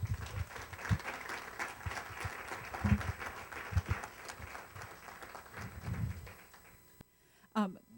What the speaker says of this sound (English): So please, another round of applause for Marilyn Barnewall.